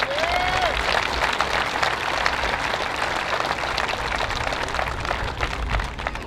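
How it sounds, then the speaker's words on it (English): Full audience applause at a foundation open's closing ceremony, a sustained thick roar of clapping with crowd murmur, steady and loud throughout, with a brief faint whistle near the start. "So a big round of applause for all our corporate sponsors."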